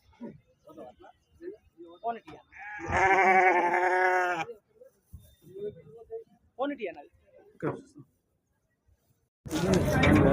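A loud, wavering sheep bleat rises out of scattered nearby chatter at the weekly Siddipet livestock market, followed by more voices and a brief burst of noise at the end.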